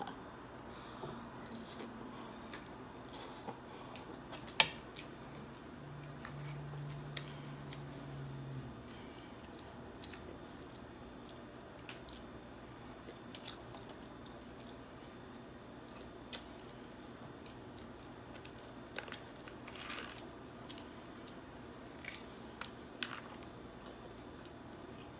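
Snow crab with sauce being eaten up close, soft wet squishes and occasional sharp shell cracks and clicks scattered over a long, quiet stretch.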